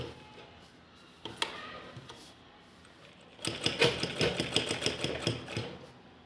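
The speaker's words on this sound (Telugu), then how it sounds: "ఎడ్జ్ మీద స్టిచ్ చేస్తున్నాను" Sewing machine running along the folded edge of a fabric cover, starting with a couple of isolated clicks, then a fast, steady run of stitching ticks and whirring, close and moderately loud.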